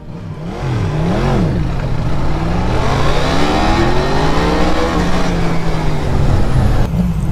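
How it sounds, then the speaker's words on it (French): A Husqvarna Svartpilen 401 motorcycle revs hard for a wheelie, loud and close, its engine note swooping up and down through several rising and falling revs before cutting off. "Je vais activer le petit wheeling."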